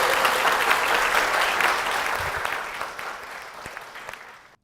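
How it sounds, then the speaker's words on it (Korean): Applause from a church congregation welcoming a deacon, a dense burst of clapping that gradually thins and fades away toward the end. "박수로 맞아주시겠습니다."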